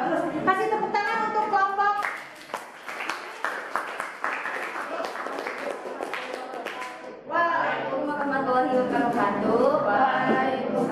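In an Indonesian school classroom, students clap for a student group for about five seconds. The bright, scattered clapping starts and ends with talking, and young voices can be heard around it.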